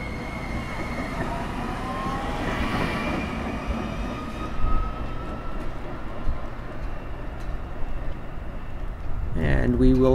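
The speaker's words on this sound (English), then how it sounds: "I'll go ahead and get a quick video of this train departing the station" DART light rail train pulling out of a Dallas station, a rising electric motor whine and rolling rumble building over several seconds, with a brief squeal near the end and people talking nearby.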